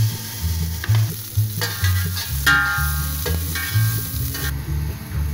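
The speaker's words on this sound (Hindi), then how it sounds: "और ये लहसुन अदरक का पेस्ट डाल देंगे।" Garlic ginger paste frying in oil in a pan while being stirred, a steady close sizzle with scraping stir sounds and occasional clinks, no talking.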